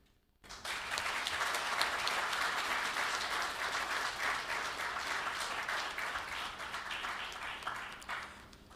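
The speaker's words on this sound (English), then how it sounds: "Please join me in applauding and welcoming our award recipients" An audience applauds for award recipients at an opening ceremony in St Kitts and Nevis, with dense, steady clapping starting abruptly and holding for several seconds before thinning at the end.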